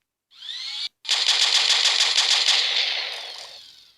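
Rapid automatic gunfire from a favourite weapon in a modded video game, a dense loud burst after a brief opening shot and short gap, continuing steadily for about three seconds before fading, with no talk.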